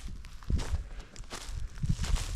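Footsteps crunching through the ground litter of burned woodland, several uneven steps close by, fairly quiet with no talking.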